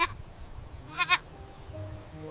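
White goat's kids bleating: a faint cry at the start, then a pair of sharper, wavering bleats close together in the middle, over quiet background rustle.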